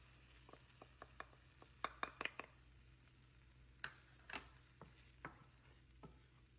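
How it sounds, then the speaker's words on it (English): Spices toast in a dry pan with garlic and ginger, a faint low sizzle running under a series of sharp spoon scrapes and taps against the pan, some in quick clusters. "Spices go in. I wanted to toast them before I add shrimp."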